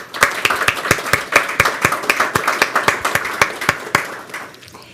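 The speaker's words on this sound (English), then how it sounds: "Let's take a moment to give a round of applause to thank our sponsors" A small audience at a democracy and media technology forum claps in thanks for sponsors, distinct individual claps in a steady rhythm close by, fading out near the end.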